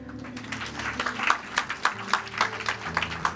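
Church congregation clapping together at a pastor's request, a steady rhythmic patter of hands heard fairly quietly over a low sustained musical background.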